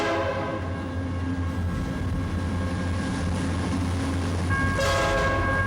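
A train rumbles past with a steady low drone, while a loud sustained horn blast sounds over it throughout, growing brighter near the end.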